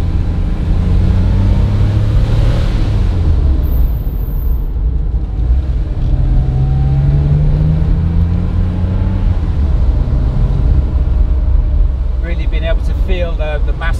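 Rare Porsche 911 Targa SuperSport with an air-cooled rear engine, driven on twisty roads at night: a steady, loud low engine drone and road rumble fill the cabin throughout, with pitch sweeping up and down through bends.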